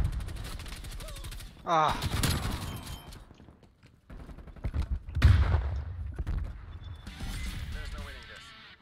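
Shotgun blasts and other gunfire in a first-person shooter video game, several sharp bursts spread through the clip, loud and close, mixed with players talking over voice chat.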